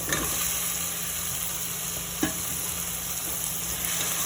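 Chopped cooked hearts of palm stirred into a pan of sautéed onion, garlic and tomato, a steady close sizzle with a soft scrape of stirring and one brief clack of a utensil.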